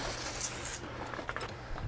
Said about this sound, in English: Spraying the foundation of the home right now, make sure no insects wants to go inside. We're using a pyrethroid,